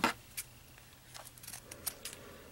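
Scissors snip crocheted yarn in a few quiet, close, sharp cuts spaced irregularly, with no talking.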